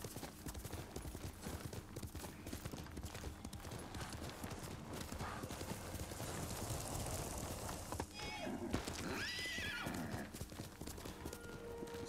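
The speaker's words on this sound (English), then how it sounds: "my horse is just putzing around like a moron" A horse trotting in the video game Ghost of Tsushima, steady rhythmic hoofbeats close up, with a whinny rising near the end.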